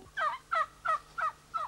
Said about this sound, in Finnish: Se on kalkkuna.